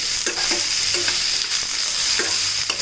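Onions fry in a pan for an egg and peas masala curry, a close, steady sizzle broken by several rhythmic scraping stirs.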